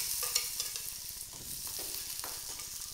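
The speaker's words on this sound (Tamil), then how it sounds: "ஆனியன் போட்டு நல்லா ஃப்ரை பண்ணிக்கோங்க" Onions frying in a pan for a Tamil drumstick-leaf kurma, a steady close sizzle with light stirring scrapes running throughout, no voices.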